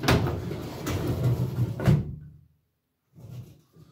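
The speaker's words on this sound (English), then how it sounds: "Then I got a drawer with Kunyoshi, Yoshitoshi, Utamaro, Hokusai and Hiroshige" A drawer of a cabinet storing ukiyo-e woodblock prints slides open with a steady rumbling scrape for about two seconds, then, after a short silence, gives a softer brief shuffle.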